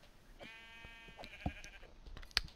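A sheep in a cooperative survival video game bleats once in a wavering, buzzy call near the start, followed by scattered soft clicks and a couple of sharper taps, all quiet and close.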